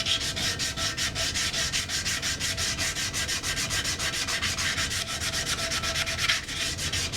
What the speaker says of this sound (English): See the little piece of the wheel here, I'll have to file that out.